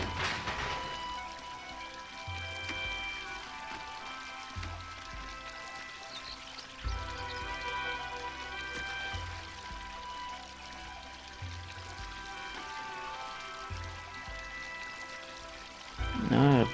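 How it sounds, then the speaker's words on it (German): Water pours and fills a space in the game Unravel, a soft steady trickling and splashing that runs throughout, fairly quiet, with game music tones layered over it. "Wasser füllt sich."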